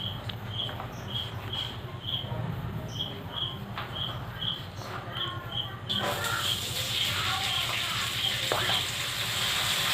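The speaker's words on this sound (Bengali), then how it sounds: "আমি কড়াইতে তেল দিয়ে দিয়েছি, দিয়ে আস্তে আস্তে একে একে এইগুলো সব ভেজে নেব।" Vegetables such as yard-long beans frying in oil in a kadai for chicken pasta, a steady close sizzle with faint stirring, growing louder and hissier in the second half.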